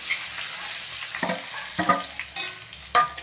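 Taro root tossed into a pan of popped mustard seeds fries with a steady sizzle, broken by several scraping stir strokes of a spoon against the pan.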